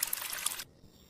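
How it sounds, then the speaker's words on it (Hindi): Water is poured onto firewood in a cartoon, a brief hissing splash that stops abruptly after about half a second and leaves only quiet background. "होशियारी के चक्कर में कालू कौवा घर में पड़ी सारी लकड़ियों पर पानी डाल देता है।"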